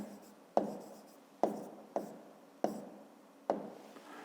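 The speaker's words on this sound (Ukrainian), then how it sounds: "Ну, а тепер записуємо відповідь" A pen writes out an answer in a fifth-grade maths exercise, five or six sharp taps and strokes spaced at irregular intervals, each fading quickly, close and fairly quiet with no talking.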